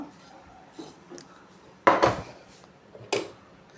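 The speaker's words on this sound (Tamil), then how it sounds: "பித்தளை டப்பா தான் நல்லா இருந்த இந்த டப்பா" A second-hand brass container handled on a hard surface gives two metallic clatters, one after another at close range and moderately loud, with quiet rustling between them.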